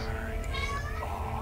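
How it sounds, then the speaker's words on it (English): A cat meows close by in a short drawn-out call, heard over a game's background sound. "Shut up, cat. Your cat needs to shut up."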